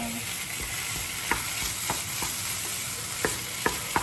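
Pork belly fried rice is stirred in a hot pan, with a steady close sizzle broken by sharp spatula scrapes and taps at irregular intervals.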